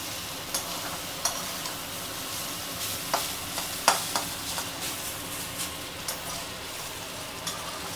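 Chicken for chow mein, cooked like chilli chicken, stirred in a pan, giving a soft steady sizzle broken by a few sharp scrapes and clicks of the utensil, with no voices.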